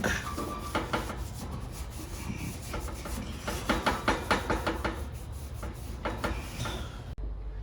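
A surface is scrubbed with The Pink Stuff abrasive cleaning paste, producing close, gritty rubbing strokes in a repeated back-and-forth rhythm, some bursts clustered quickly together, with no talking over it.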